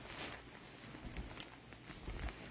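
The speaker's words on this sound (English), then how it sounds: "I'm hanging out here underneath the awning because it's raining" Rain patters steadily on an awning outdoors on a wet morning, a faint, even hiss with a few soft, scattered drops and no voices.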